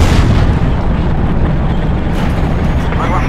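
Explosions in the video game Battlefield Iraq, a dense, loud rumbling roar of blasts and debris filling the whole stretch with heavy low-end boom and no quiet gaps.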